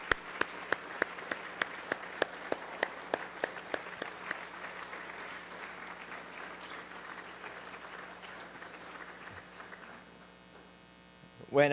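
An audience at a Rotary Club of Denver program applauds graduating students, starting with a few sharp claps that swell into sustained clapping, then fading out over a steady electrical hum.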